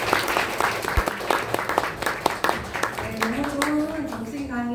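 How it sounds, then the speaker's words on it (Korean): Audience applause after a lecture at a Korean business seminar, a dense burst of many hands clapping with sharp individual claps, continuing steadily while a voice starts talking over it toward the end. "다시 한번 큰 박수 부탁드립니다"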